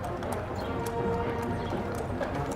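Horses' hooves clip-clop along the street during a Pioneer Days parade, a steady patter of hoofbeats under crowd noise and faint talk.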